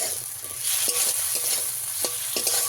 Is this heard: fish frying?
yes